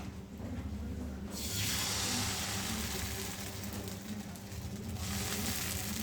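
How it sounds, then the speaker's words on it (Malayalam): Appam batter ladled into a hot pan on the stove sets off a loud, steady sizzle that swells in after a quiet start and hisses on continuously. "ഇനി നമുക്ക് ആ മാവ് അങ്ങോട്ട് കോരി ഒഴിക്കാം."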